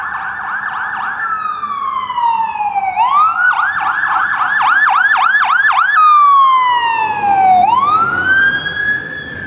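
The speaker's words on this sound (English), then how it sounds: "That's a siren." An emergency vehicle siren on a Toronto street wails loudly and close by, cycling through rising and falling tones with rapid yelping bursts in between.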